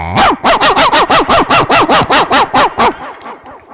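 At a mushaira poetry gathering, a voice imitates a dog barking with a fast run of about a dozen sharp, even barks that stop abruptly and leave a faint tail.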